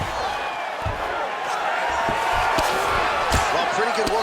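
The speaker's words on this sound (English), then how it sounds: "Crowd pops as Elliott fights out." Arena crowd roaring at a mixed martial arts bout in EA Sports UFC 5, a sustained loud wash of cheering with scattered thumps from the fight.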